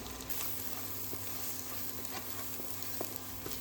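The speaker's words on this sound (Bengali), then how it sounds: "আরও একটু ভালো করে মশলাটাকে কষিয়ে নেব" Spice paste of turmeric, cumin, coriander, black pepper and chili powder fries in a pan, giving a steady close sizzle with faint scraping stirs throughout and no voices.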